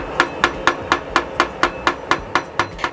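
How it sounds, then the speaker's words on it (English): A metal potato masher clanging against a pot while mashing a spiced onion bhaji mixture for Kolkata pav bhaji, about a dozen sharp, even knocks in steady rhythm, close and moderately loud over a faint background hum. "the sound that I was just making with the potato masher"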